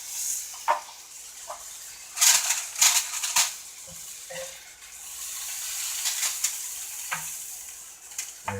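Flank steak sizzles in a pan in a small apartment kitchen: a steady, loud frying hiss broken by scattered sharp crackles and pops, with no talking.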